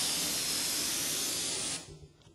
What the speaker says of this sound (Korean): 저희는 지금 풍선을 한번 20cm 크기로 한번 불어보도록 하겠습니다